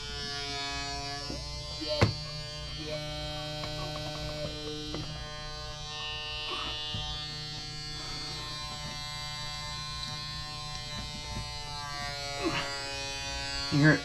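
A vacuum pump degassing fluid in a part for an Arrma Limitless RC car build hums steadily with a constant, close mechanical drone and a few faint clicks throughout.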